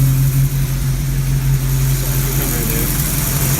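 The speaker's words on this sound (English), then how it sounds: "Got that exhaust leak there." A classic Ford car engine with an exhaust leak idles steadily up close, a low continuous rumble with a rough, uneven burble running through it.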